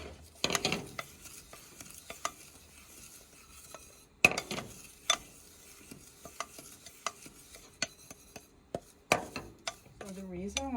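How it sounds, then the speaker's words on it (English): Breadcrumbs toast in a dry pan on a stovetop, heard as sporadic scraping and clinking of a utensil against the pan with soft sizzling between the knocks, close and fairly quiet. "We're going to toast the breadcrumbs on top of the stove"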